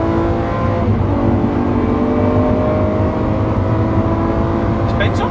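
A Lamborghini Countach pulls hard along the Autobahn, its engine droning loud and close with a steady, rising roar from inside the car for the whole stretch.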